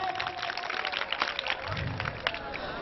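An audience at a Hindi-language talk claps together in a steady, moderately loud patter, with faint voices underneath.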